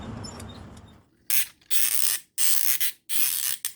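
A tight plastic joint on a 2010 Mecha Warfare Grand Patriot toy robot is worked back and forth, giving four loud, close, harsh plastic-on-plastic ratcheting creaks in quick bursts after a brief murmur.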